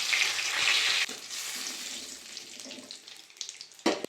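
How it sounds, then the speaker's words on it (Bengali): Dried chilli, whole cumin and bay leaf hit hot mustard oil for a vegetable khichuri with a loud, hissing sizzle that eases after a second into a softer crackle, ending in a brief stirring clatter. "দিয়ে দেবো সরষের তেল, তেল গরম হয়ে গেছে, দিয়ে দেবো শুকনো লঙ্কা, দিয়ে দেবো গোটা জিরে, দিয়ে দেবো তেজপাতা"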